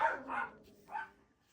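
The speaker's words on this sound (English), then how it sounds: "Sorry, my dogs are barking." Pomeranian dogs give two quick yappy barks close together, then a third bark after a short pause, sharp and fairly close in an otherwise quiet room.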